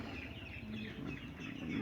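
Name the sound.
sick Siamese chicken clucking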